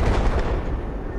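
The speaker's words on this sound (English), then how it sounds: "that was an explosion." A deep, heavy explosion in the video game Battlefield 4 booms loud and close, its low rumble rolling out and fading over a second, with no voices.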